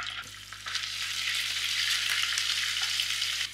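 Ginger dropped into hot oil in a wok gives a steady, close sizzle that swells after a brief soft start and holds as an even frying hiss.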